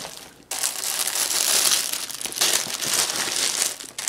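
Plastic zipper bags crinkle and rustle steadily up close as needlework kits are packed into them, a continuous crackling with brief pauses and no talk.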